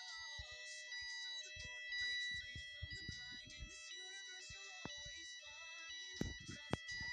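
A Melation PLC fire alarm system sounds in a store during a test of its voice evacuation: repeating stepped electronic tones play steadily at moderate loudness, with occasional faint clicks and knocks.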